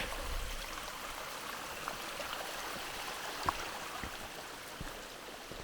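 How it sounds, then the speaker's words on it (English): Christmas Creek, a stream in Girdwood, Alaska, flows with a steady, quiet wash of running water at a distance, with a few faint clicks and bumps over it. "This is Christmas Creek."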